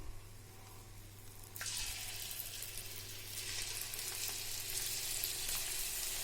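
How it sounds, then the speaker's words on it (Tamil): Ragi and onion pakoda batter drops into hot oil for an evening snack. A low hiss turns into steady, bright sizzling that stays close and constant to the end. "இப்போ மாவு கொஞ்சம் கொஞ்சமாக எடுத்து ஆயிலில் போட்டுக்கலாம்."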